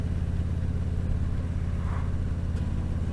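A car cruising at a steady 80 km/h on a French national road on a cool, sunny day, its engine and tyre rumble a continuous low drone throughout, close and unbroken, with no talk.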